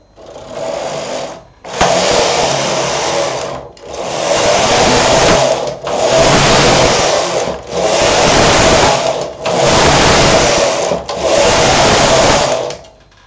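A Silver Reed SK 2 knitting machine carriage sliding across the needle bed for a child's visored hat, seven loud whooshing, rattling passes in a regular back-and-forth rhythm with short pauses between, no talking.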